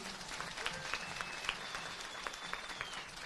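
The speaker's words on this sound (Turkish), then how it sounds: "Bir alkış istiyorum." An audience at an iftar gathering for earthquake survivors in Sivas claps in a soft, sustained patter, somewhat distant, with faint whistles and murmurs in the room.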